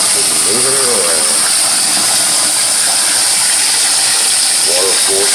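Water gushing from a tap to rinse salt and debris out of aquarium substrate, a constant loud hissing rush with a voice briefly talking over it.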